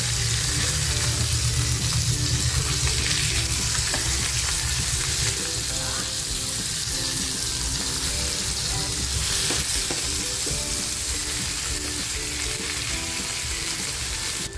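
Pomfret stuffed with Bombay duck mince fries loudly in a pan, a dense continuous sizzle with scraping stirs throughout, close and steady for the whole stretch.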